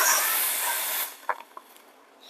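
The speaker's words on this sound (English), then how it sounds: "So let me purge the steam." The steam wand of an Ascaso Baby T Plus espresso machine purges with a loud, close, broadband hiss for about a second. The hiss cuts off abruptly, leaving a few small clicks and sputters.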